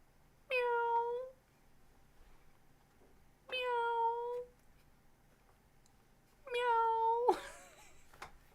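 A cat meows three times, each call clear, drawn out and rising then falling, separated by a few seconds of quiet.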